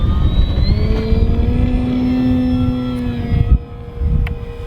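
An E-Flite Carbon-Z Cessna RC airplane takes off outdoors in cold, windy weather, its electric motor giving a loud, steady whine that climbs in pitch, cuts off briefly near the end, then returns.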